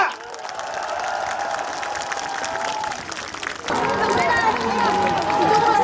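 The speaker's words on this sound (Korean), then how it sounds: "박수와 함성이요!" Applause and cheering from a crowd at a civic festival concert for a trot singer, a steady clatter of clapping that swells louder and denser partway through, with shouts mixed in.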